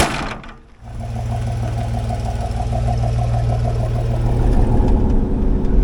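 An off-road vehicle with a built roll cage starts up and settles into a steady, loud running rumble with a rhythmic throb, close by and without talk.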